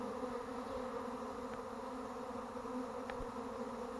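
A swarm of honeybees buzzes steadily and loudly all around during a swarm capture, a dense continuous drone with no talking.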